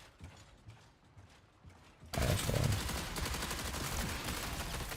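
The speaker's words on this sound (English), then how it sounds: "There's a guy shooting at me." Gunfire in the video game The Finals breaks out as a sudden dense burst of rapid shots that continues steadily after a quieter stretch of clicking game sounds.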